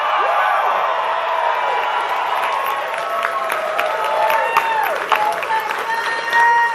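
A large election night rally crowd for a newly elected senator cheers, whoops and applauds steadily, a dense wash of clapping and shouting that stays loud and sustained throughout.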